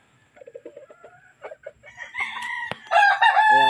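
Banahaw gamefowl rooster crowing nearby, a loud full cock-a-doodle-doo rising at the end, preceded by softer clucks and calls from other fowl.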